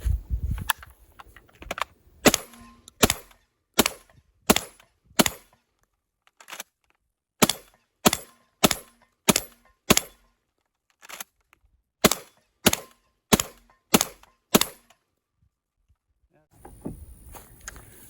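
A Tavor TS12 12-gauge bullpup shotgun fires a long string of about fifteen sharp, evenly spaced shots in an outdoor test, each a brief crack with a pause near the end before faint handling noise.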